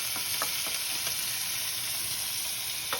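Ginger-garlic paste with ground spices sizzles steadily in a pan for a Bengali boal fish curry, a continuous close hiss with a few faint stirring scrapes and no talking.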